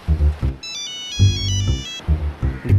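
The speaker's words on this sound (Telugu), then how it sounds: "నీకే ఫోన్ చేస్తున్నట్టున్నాడు." A mobile phone ringtone from an incoming call, a loud electronic melodic tone repeating in short bursts over a thumping beat, close and alone.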